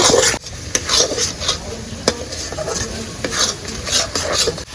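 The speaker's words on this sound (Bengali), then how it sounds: "একশো গ্রাম গুড় দেবো এই অনবরত নাড়তে হবে" About a hundred grams of jaggery is stirred continuously in a pan for homemade chyawanprash, giving steady scraping and occasional metallic clinks of the spoon against the pan, with no voices.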